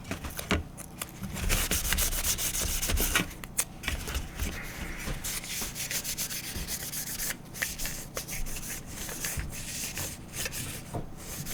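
Hand sanding a Star Trek Enterprise model: continuous close rubbing and scraping strokes with irregular rhythm and a few brief pauses, loud and dry, with no voices.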